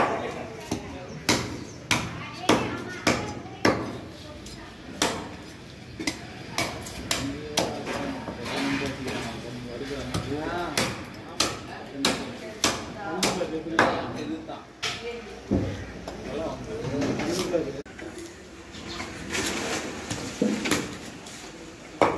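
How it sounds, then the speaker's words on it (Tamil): Fish being cut at a busy fish market: a rapid series of sharp chopping thuds of a knife on a board, irregular and repeated throughout, amid crowd chatter and people talking nearby. "இப்போ மீன் வெட்ட ஸ்டார்ட் பண்ணிட்டாருங்க"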